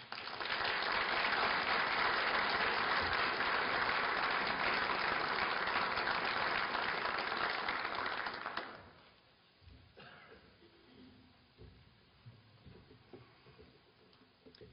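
Applause from a lecture audience greeting a reverend speaker, a steady dense clatter of many hands lasting about eight seconds before it cuts off, leaving quiet room noise and small stray sounds.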